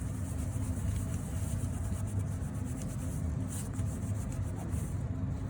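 Steady close scrubbing and rubbing of dried gesso being cleaned off a surface, a continuous coarse rasp with no pauses and no talking.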